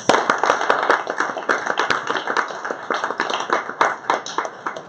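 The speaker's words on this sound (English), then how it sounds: "Big round of applause for Mr. S." Applause at a leathermen's discussion group gathering, a dense, steady clatter of many hands clapping, with crisp individual claps up close, continuing throughout.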